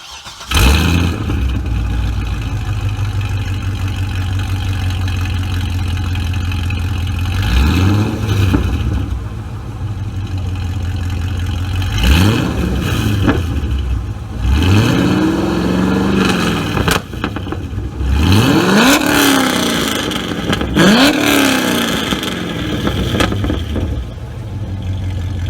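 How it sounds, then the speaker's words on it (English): A C6 Corvette V8 fitted with headers revs repeatedly, each throttle blip rising and falling in pitch over a steady loud idle, close and unaccompanied by talk. "There's nothing like the sound of a C6 Corvette with headers on it."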